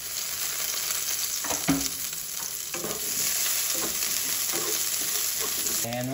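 Onion sizzling in cooking oil with garlic in a pan, a constant bright fry hiss broken by several clanks and scrapes of a spoon stirring, close up with no talking.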